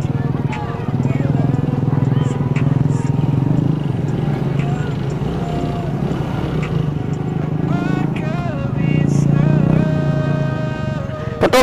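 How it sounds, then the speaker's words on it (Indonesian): A motorbike churns along a rough off-road track at Lhok Bubon beach in Aceh Barat, its engine a steady, fairly loud drone beneath near-constant conversation. "masa ini motor gua diajak terabas kayak di sini cuy"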